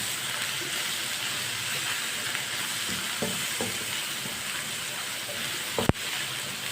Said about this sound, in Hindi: मसालों को 1 मिनट के लिए पका लेंगे।